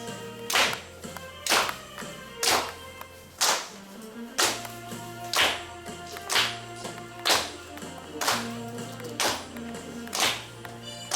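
An audience at a culture lecture claps along in a steady beat, about one sharp, loud clap per second, over a sustained tonal backing with a brief pause near the middle.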